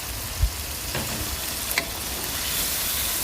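Chicken pieces dropped into fried masala for chicken biryani give a steady sizzle, broken early by a sharp thump of the chicken landing and a couple of brief scraping stirs, with no voices.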